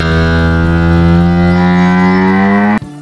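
A hippo gives one long, loud, deep droning call with a rich buzzy tone that holds steady for nearly three seconds before cutting off abruptly, close and alone.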